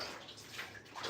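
Running bath water fills a bathtub at a child's bath time, a steady soft splashing and rushing heard close by with no talk over it.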